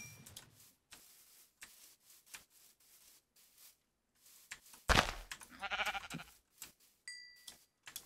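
A sheep bleats in a video game world, one wavering close cry standing out amid soft scattered ticks, rubbing and footstep-like taps.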